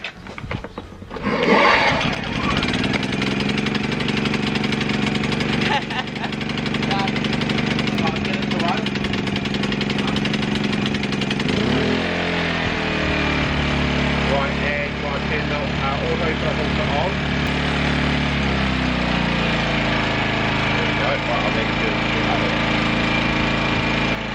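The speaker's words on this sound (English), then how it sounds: "You can hear the engine changing." An XTM 2000 watt inverter generator engine starts and then runs steadily, its droning pitch shifting as a load is plugged in, with voices talking nearby.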